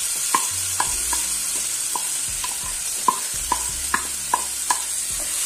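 A marinated raw potato mixture frying in mustard oil, a steady close sizzle with repeated light taps and scrapes of a utensil stirring in the pan.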